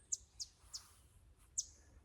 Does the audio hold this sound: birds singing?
yes